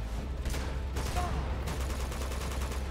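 Gunfire in an Uncharted boss fight video game, a steady crackle of rapid shots rolling on throughout, with a brief voice underneath.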